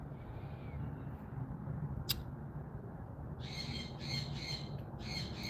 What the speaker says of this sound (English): Now, you might hear some birds in the background.